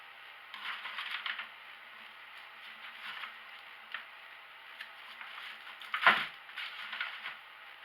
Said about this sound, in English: And I'm simply going to cut around that.